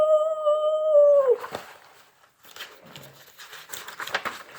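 A human voice imitates a dog named Max howling: one long, steady, rising-then-falling howl held for over a second, followed by quiet rustling and soft scattered noises.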